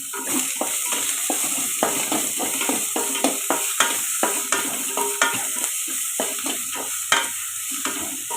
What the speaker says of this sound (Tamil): இப்போ வெங்காயம் வதங்கிச்சு